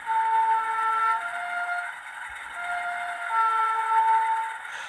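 A Bachmann Class 45 model diesel locomotive with DCC sound sounds its two-tone horn, a steady toot that drops in pitch and then rises again, clear and close, with no talking.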